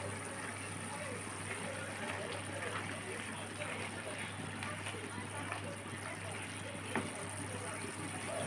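Vegetarian soybean curry boils in a pot on the stove with a steady, dense bubbling hiss that stays even throughout.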